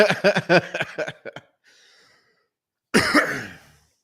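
A man coughs in a short harsh burst of several coughs, then a soft breath, then one more loud rough cough, close and alone with no talk.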